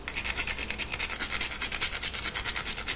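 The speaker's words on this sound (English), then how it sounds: "I have some fresh nutmeg, so I'm just going to grate in just a little bit." Fresh nutmeg is rubbed across a grater in quick, even strokes, a close, rhythmic rasping scrape repeating steadily for a few seconds with no talking.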